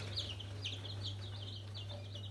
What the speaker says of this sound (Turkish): görmüş olduğunuz tamamen köy tavuklarının yumurtalarından elde etmiş olduğumuz köy civcivleri